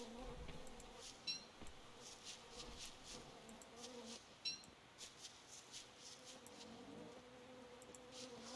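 Bees in the survival video game Don't Starve Together give off a faint, steady buzzing drone over several seconds, with a few soft clicks and rustles mixed in.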